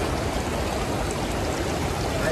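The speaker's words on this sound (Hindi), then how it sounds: "आइए ठंडा ठंडा पानी आ रहा है ग्लेशियर का" Cold glacier meltwater stream rushing steadily near the village of Thang in Ladakh, a dense, continuous broadband wash of flowing water, close and fairly loud, with no voices over it.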